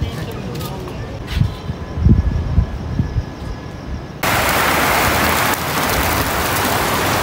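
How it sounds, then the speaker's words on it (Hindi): Heavy outdoor rain begins as scattered drops and thuds under voices, then swells into a loud, dense, steady hiss of downpour that fills the rest of the clip. "इधर बारिश बड़ी ज़्यादा किस्म की"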